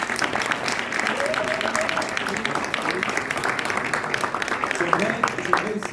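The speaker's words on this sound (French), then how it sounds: "vous méritez déjà une bonne main d'applaudissements" An audience in an academic hall applauds steadily and densely for the full stretch, a sustained wash of many hands clapping with no pauses.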